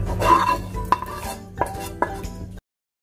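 Fried vegetables being stirred into a creamy white sauce for pasta in a pan, with soft wet stirring and a few sharp clinks of a utensil against the pan, close up and without talking, ending in silence.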